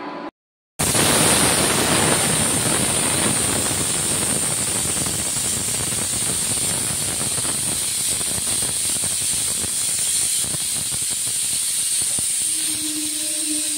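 A pressure cooker with mutton inside vents steam in a loud, continuous hissing whistle that starts abruptly after a short gap and runs on with little change.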